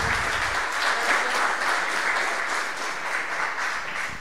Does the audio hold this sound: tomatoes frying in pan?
no